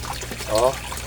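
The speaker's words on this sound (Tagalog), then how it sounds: "Yung aerator pump ko guys, i-on natin." A small 18-watt aerator air pump for a koi pond is switched on, giving a short burst of bubbling, trickling water over a steady low hum.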